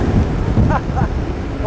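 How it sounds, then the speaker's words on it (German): Strong stormy wind buffets the microphone with a constant low roar beside a 1936 Alvis Silver Eagle, and a voice briefly exclaims over it. "Wir haben es heute sehr, sehr windig"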